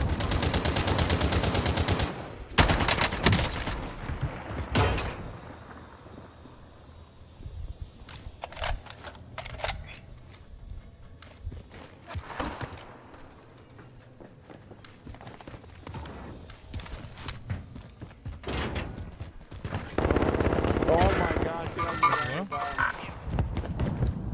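Tech 9 gunfire in a first-person shooter game: loud, rapid bursts of shots in several clusters over the whole stretch, mixed with other game noise and excited voices.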